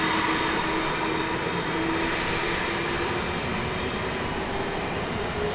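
An MD-11 jet taking off at night at DFW Airport, a steady broad engine roar at moderate distance, holding evenly throughout with no voices.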